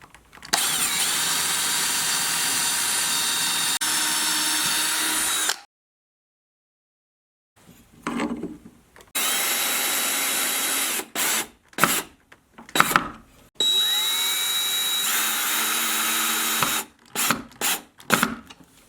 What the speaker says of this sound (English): I'm going to take a drill and I'm going to drill pilot holes.